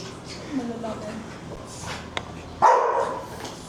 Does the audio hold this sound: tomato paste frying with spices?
no